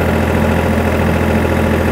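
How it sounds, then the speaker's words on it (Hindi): Tractor diesel engine held near 1840 rpm with the rear PTO engaged at 540, a steady loud idle-like drone with low rumble and no voices. "इंजन आरपीएम 1840 रख रहा हूँ और पीटीओ में पीछे आपको 540 मिल रहे हैं।"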